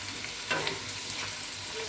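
Curry leaves sizzle and fry in a hot pan for a Telugu mixed vegetable curry, a steady close crackle with a brief louder spatter burst near the start, heard alone without talk.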